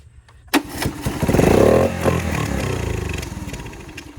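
A revived three-wheeler ATV engine catches with a sharp bang, then rises into a loud, rough idle that settles and sputters unevenly close by, with no talking.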